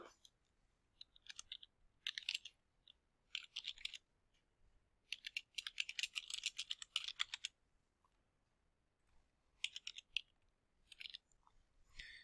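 Someone types a title and creator into a library catalogue search form on a computer keyboard, in several quick bursts of clicking keystrokes separated by short pauses, close and clear with no talking.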